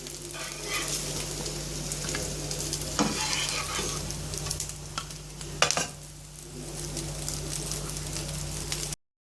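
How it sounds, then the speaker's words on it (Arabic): Kofta meatballs fry in a pan for a kofta pasta dinner, giving an even close sizzling hiss with scattered spatters and a louder clatter near the end before the sound cuts off abruptly. "انا كده خلاص حمرت الكفته بتاعتي زي ما حضراتكم شايفين. هبدا اطلعها كده."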